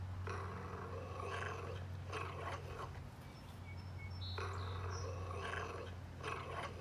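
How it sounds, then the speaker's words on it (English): Low, rough growling rumbles in two long bursts over a steady low hum, loud and close, with no talking. "Why don't you growl at him, see what happens?"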